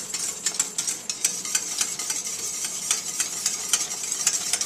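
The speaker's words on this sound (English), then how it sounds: "Make sure to whisk vigorously to avoid any clumps" A whisk beats a custard mixture with egg in a bowl, making quick, regular metallic clicks at a brisk, even rhythm over a soft background hiss.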